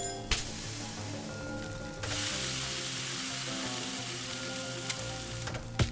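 A burger sizzles on a grill in the cooking video game Cook, Serve, Delicious, a continuous close frying hiss that swells partway through, punctuated by a few short clicks.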